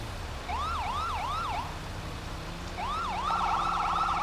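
Fire engine siren in a video game, a wailing two-tone sweep cycling several times, pausing briefly, then returning louder with a faster yelping pattern layered in over a low engine hum.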